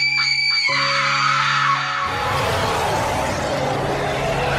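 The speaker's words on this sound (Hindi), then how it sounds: "सारे ज़ॉम्बी जोर जोर से चिल्लाने लगते हैं" Cartoon zombies in an animated horror story scream loudly, a harsh sustained chorus of shrieking voices that shifts into a rougher, noisier roar partway through.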